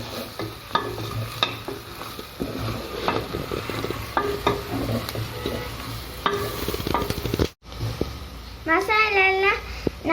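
Masala spices, coriander powder and pepper, frying and being stirred in a pan for Kerala-style beef fry, with a steady sizzle and scraping stir strokes throughout, and a voice briefly speaking near the end.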